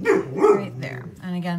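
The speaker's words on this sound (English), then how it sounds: "I apologize for the dog." Dog barking indoors a few times in short, sharp bursts close to the microphone, mixed with a person talking during a paper craft card project.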